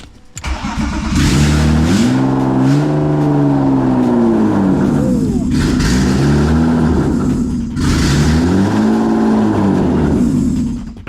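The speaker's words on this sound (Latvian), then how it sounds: "Motors rūc." A BMW 328 E36 coupe engine revs hard and loud, its pitch sweeping up and down in several repeated surges, with a rough, throaty rumble.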